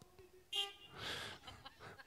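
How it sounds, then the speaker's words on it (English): Car horns honk from a drive-in crowd gathered by a fence line, a short sharp toot followed by a longer blast and a few fainter honks, heard at a moderate distance. "Those are some weak horns"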